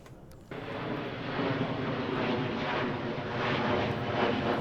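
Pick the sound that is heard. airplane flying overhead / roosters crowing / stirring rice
airplane flying overhead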